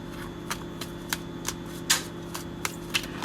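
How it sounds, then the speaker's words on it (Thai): Phaya Naga tarot cards are shuffled close by, giving a run of quick, sharp riffling taps spaced at a fairly even rhythm, crisp and fairly quiet against a faint steady hum. "ไพ่ที่ใช้เปิดวันนี้เป็นไพ่พญานาคนะนะคะ"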